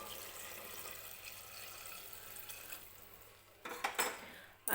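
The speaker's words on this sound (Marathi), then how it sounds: "ते पाणी आता या मटणामध्ये ओतून घेते मी" Hot water poured into a pot of cooking mutton, a faint steady trickle and splash followed by a few louder clanks of the pot near the end.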